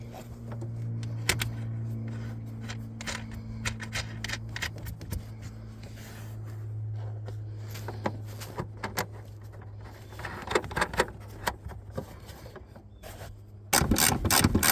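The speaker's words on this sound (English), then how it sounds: "Now we just tighten up the bolts on the inside, the nuts anyway" Ratchet clicking in short bursts as it tightens nuts on the inside of a 2004–2005 Toyota Prius brake light assembly, close up, with a steady low hum beneath and a louder rustle at the end.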